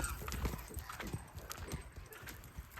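Hooves of a well-bred stallion clip-clopping in a steady, irregular rhythm of soft thuds at moderate distance, with faint background noise and no clear talk.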